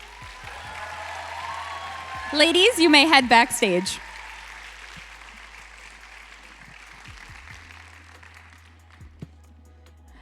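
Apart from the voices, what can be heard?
audience applause for pageant candidates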